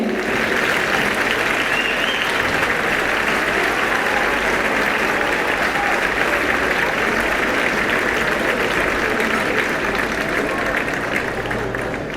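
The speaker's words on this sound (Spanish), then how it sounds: "creo que merecen outro aplauso" A festival concert crowd at the Corpus festivities in Ourense gives loud, sustained applause, a dense, even wash of many hands clapping with crowd noise that holds steady throughout.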